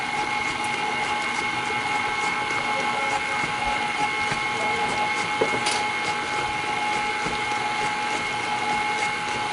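Spoon mixing an egg into Kentucky butter cake batter in a bowl, a continuous close, wet scraping and stirring texture with no pauses.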